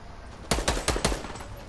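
Four rapid, evenly spaced gunshots ring out in Fortnite, loud and punchy with short echoing tails, then fade into quiet.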